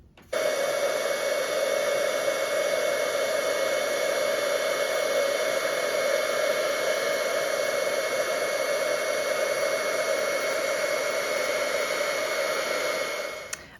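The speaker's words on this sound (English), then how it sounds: "once you're ready, you can go ahead and heat to set the image." Heat gun blowing steadily to set embossing powder for card making, a loud constant whooshing roar with a whine, starting abruptly and running alone for about thirteen seconds before cutting off.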